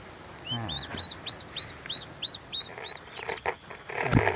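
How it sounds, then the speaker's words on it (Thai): Young turkey chicks kept under a light at night give a rapid series of high, rising peeps, about eight evenly spaced calls close by, with faint rustling and a soft thump near the end. "มาดูลูกไก่ตอนกลางคืนเขาไม่ยอมหลับไม่ยอมนอนนะครับ"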